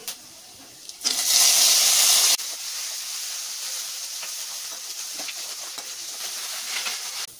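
Curry leaves and cumin seeds hit hot oil with a sudden loud sizzling burst that drops after about a second to a softer, steady crackling hiss that continues to the end.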